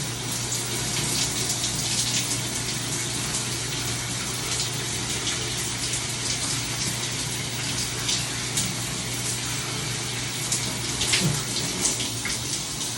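Tap water runs loudly and steadily while curly hair is washed with Hush and Hush Deeply Rooted shampoo, a constant broad rush with small splashing variations and no voices.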